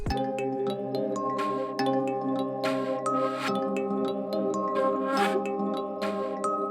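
Dry flute sample in FL Studio with no effects, tuned to the key, playing a sustained tonal melody over other backing sounds, with short bright tinkling hits scattered throughout.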